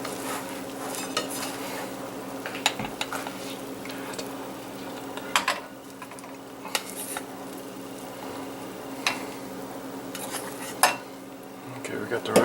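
Rice is stirred in a pot, a soft steady scraping broken by sharp clinks of a utensil against the metal every couple of seconds, close and fairly quiet.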